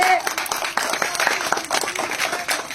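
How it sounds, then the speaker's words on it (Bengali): An audience claps in a burst of scattered, rapid applause, moderately close, with voices talking over it. "দর্শক হাততালি"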